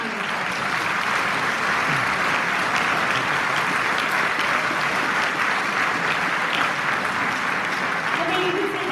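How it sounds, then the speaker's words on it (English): An audience at a school teacher recognition event applauds in a steady, dense burst of clapping that lasts throughout, fairly loud and uniform, with faint voices mixed underneath. "Please give them a round of applause."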